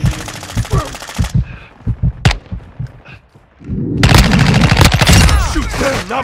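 Rapid automatic gunfire bursts from a Modern Warfare 2 multiplayer match, with sharp single shots and a loud sustained fusillade toward the end, over a busy game soundscape.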